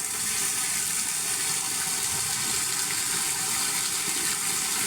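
Heavy rain pours onto a flooded home yard beside a waterlogged road with overflowing drains, a steady, loud gushing wash of water running and pooling throughout, with no break.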